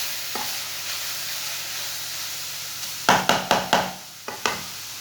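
Grated carrots fry in a pan for gajrela, a steady low sizzle, then a quick run of five or six scraping spoon strokes followed by one more stroke.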